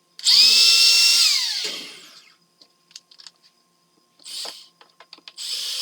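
A power drill drives screws to fasten 2x4 boards of a shoe rack. Two loud whirring bursts of the drill are heard, one long and one shorter, separated by light clicks and taps of handling the wood.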